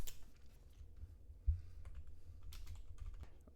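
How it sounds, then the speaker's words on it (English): Keys click in quick irregular bursts as someone types column titles into an Excel spreadsheet on a computer keyboard, soft and close with a low background hum and no talking. "so I've typed out the title of each of the columns"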